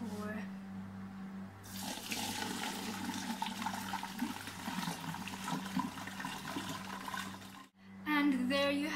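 Homemade kombucha, a fermented tea, is poured into a container, making a steady splashing, gurgling stream for several seconds close by, then stopping, with brief talk at the end.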